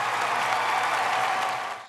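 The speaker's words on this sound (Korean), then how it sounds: "공연이 끝나자 객석에선 기립박수가 터져나왔습니다." A concert audience gives a standing ovation after a performance of songs for Ukraine, a dense and even wash of clapping that fades slightly at the end.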